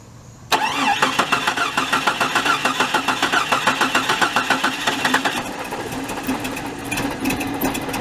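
A Jeep engine with a freshly installed battery cranks in a fast, rhythmic chug for several seconds, then catches and settles into a rough, uneven run, loud and close with no talking.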